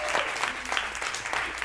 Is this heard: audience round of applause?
yes